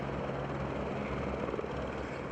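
Helicopters landing near a convention center during a police response give a steady, dense rotor and engine roar, loud and unbroken throughout.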